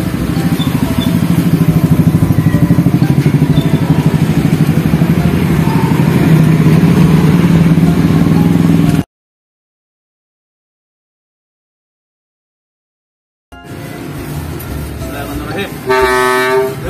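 A corn vendor's motorcycle passes by with a loud engine rumble that cuts out, then returns with a sharp, close honk near the end, while people talk nearby.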